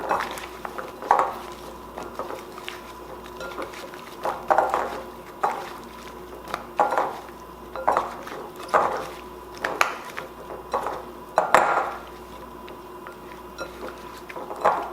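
Zucchini rounds tossed with salt, garlic powder and pepper in a bowl, giving a steady series of soft clinks and scrapes against the bowl, roughly every second, close and moderately quiet, with no talking.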